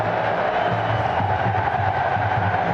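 Dense crowd roar filling a packed football stadium in Brazil before a match between Fluminense and Italy, a steady, loud wash of cheering voices with no clear breaks.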